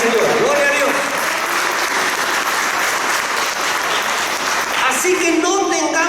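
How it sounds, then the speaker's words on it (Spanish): Congregation applauding during a Spanish-language church sermon, a sustained wash of clapping lasting several seconds, with voices and a few shouts rising over it near the end. "Dale un aplauso al Señor."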